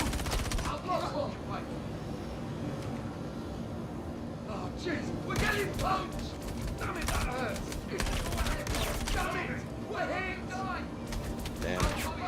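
Rapid bursts of NPC gunfire in the video game Star Citizen, a dense volley of many shots fired very quickly at close range, overlapping with a speaking voice throughout.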